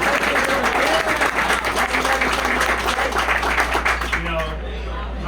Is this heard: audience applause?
yes